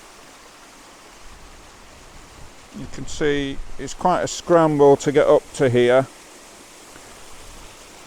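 A modest trickle of water falling at Moss Force gives a steady, soft broadband rush that runs faintly through the whole scene, with someone talking over it in the middle.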